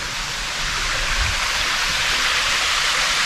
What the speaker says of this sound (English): Look at the waterfall. This is beautiful.